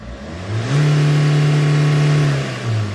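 A SsangYong Rexton W diesel engine fitted with an aftermarket non-powered turbo revs up, holds a steady loud drone for a couple of seconds, then drops back toward idle.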